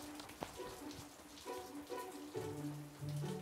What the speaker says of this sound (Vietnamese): Mưa quá nhỉ.